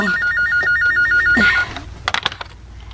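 A landline telephone rings in a repeating electronic warble during a radio drama, stops after about a second and a half, and is followed by faint clicks and handling sounds.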